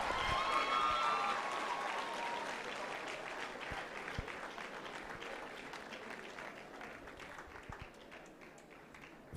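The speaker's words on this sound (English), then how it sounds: "Let's appreciate him with a round of applause." Applause from an audience at a University of Abuja award ceremony for a doctor receiving an award, dense clapping that starts loud and slowly thins and fades over several seconds, with faint voices underneath.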